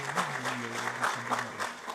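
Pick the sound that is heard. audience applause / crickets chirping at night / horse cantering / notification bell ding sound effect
audience applause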